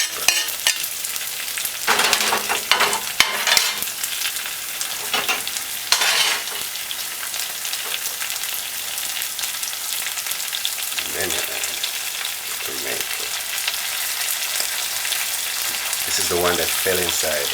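Sweet pepper frying in a seasoned pan, a constant crackling sizzle with bursts of scraping and clattering as it is stirred, fairly close and loud.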